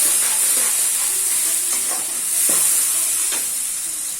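Spice paste for chicken curry hits a hot pan and sizzles loudly, a steady close hiss with soft stirring scrapes and clinks beneath, with no talk.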